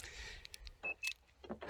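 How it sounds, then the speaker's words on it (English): Car keys for a Mazda CX-5 SUV jangle in a few quick, close metallic bursts, faint and alone with no talking. "Mr. Cameraman, I have the keys here,"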